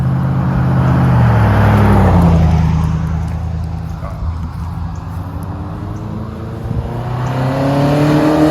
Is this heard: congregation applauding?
no